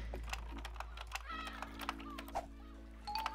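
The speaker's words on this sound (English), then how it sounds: "I like this typing sound." Keyboard-style typing sound effect from the video game Phenexa, quick irregular clicks repeating over a steady low hum, with a few chirpy tones mixed in and no talk.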